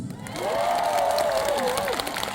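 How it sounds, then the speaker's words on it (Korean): Audience applause at an outdoor festival concert in the rain: a steady wash of clapping from a crowd, moderately loud and sustained for about two seconds, with a voice or tone rising and falling over it. "노래 잘 될 것 같다 싶은 분들만 박수!"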